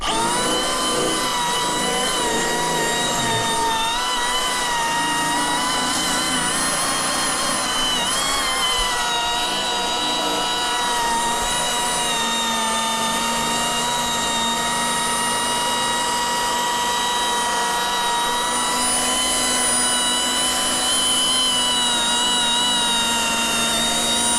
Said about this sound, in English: That's a little orbital sander slash polisher.